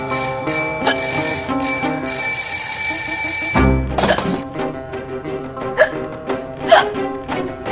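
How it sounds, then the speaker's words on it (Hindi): Repeated hiccups in a comedic Hindi TV scene, several short separate bursts over a steady bell-like musical tone, with no speech. "आपको इतनी हिचकी क्यों आ रही है?"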